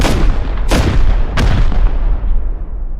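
An LR300 rifle in the video game Rust, modded to launch rockets with each trigger pull: two loud booming blasts about 0.7 seconds apart, each with a long decaying rumble, heavy low-end and no talk.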